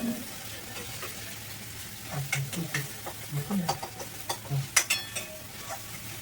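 A spoon scrapes and stirs through minced meat simmering in gravy in a pan, with a soft sizzle underneath and a run of irregular clinks and scrapes growing louder toward the end.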